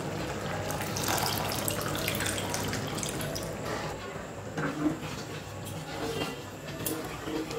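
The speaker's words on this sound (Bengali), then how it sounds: "এতে আরো কিছুটা পরিমাণ জল আমি অ্যাড করছি।" Water runs steadily into a pot of ridge gourd and chickpea dal (cholar dal) as it cooks, a continuous close splashing pour with small drips.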